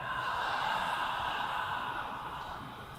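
Ujjayi yoga breathing, a long constricted-throat wheezing breath from a group of people, steady and airy, close and alone with no talk.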